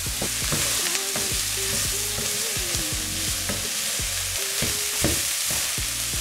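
Courgette and aubergine sizzle steadily in a pan, with a stirring utensil scraping and clacking through the vegetables in irregular strokes, close and loud, no voices.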